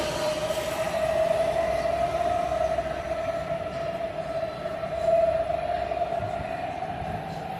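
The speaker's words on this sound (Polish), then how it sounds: "Świąteczne metro, Siemens Inspiro" A Siemens Inspiro metro train in Warsaw runs steadily, its motor whine holding a sustained tone over a continuous rumble of wheels on rail, fairly close and loud throughout with a slight swell midway.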